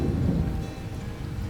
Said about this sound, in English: I think that's thunder. I think it is thunder.